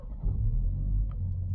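A 2024 BMW 320i engine turns over and settles into a low, steady rumble at idle, heard close from inside the car with no talking.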